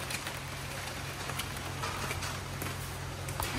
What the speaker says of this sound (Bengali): বৃষ্টি আর থামছে না।